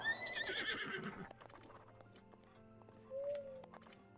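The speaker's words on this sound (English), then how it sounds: "You can even summon your horse like places like up here" A summoned horse in a video game lets out a loud, close whinny with a rising and falling pitch, followed by a few scattered hoof clops and a shorter snort-like call near the end.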